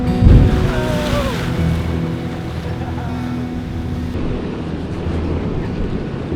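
Ocean swell washing around a small fishing boat at sea, a steady broad rush of water and wind with a low motor-like rumble, continuous and fairly loud.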